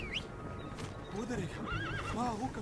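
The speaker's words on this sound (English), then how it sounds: "Let's call on a horse." A horse called in during Metal Gear Solid 5 lets out a bright, wavering neigh that rises and falls in a few quick undulations, set against soft ambient game sound with faint hoof-like thuds.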